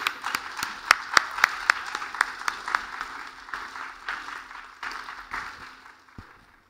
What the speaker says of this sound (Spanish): Así que recibámoslo con un muy fuerte aplauso.